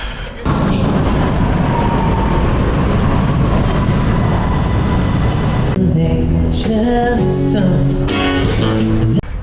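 A Vienna underground metro train rumbles steadily and loudly, then the sound shifts as brakes squeal and whine at varying pitches while it slows.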